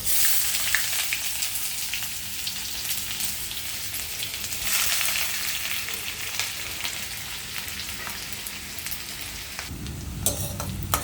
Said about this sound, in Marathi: कांदा असा परतून घ्यायचा आहे जोपर्यंत असा गुलाबी सर गुलाबी रंगाचा होत नाही